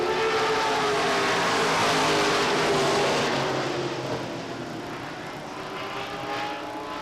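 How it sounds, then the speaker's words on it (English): Race cars roar around a track in the closing laps of a heat race, a loud sustained engine drone that holds steady and then eases slightly as the cars pass and move off, with no talking. "A tough break for Chris Sullivan, as they say, hung out to dry up there on the outside as they get 2 laps to go"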